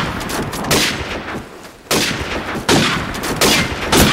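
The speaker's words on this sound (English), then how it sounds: "And they're shooting." Video game gunfire comes in repeated loud bursts during a match, with sharp shot clusters separated by brief quieter gaps and no talking.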